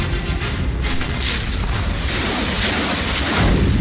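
Explosions during Russian bombardment of Kyiv, a loud sustained rumble of blasts and booming bursts with crackling debris-like noise, heavy and continuous across the whole stretch.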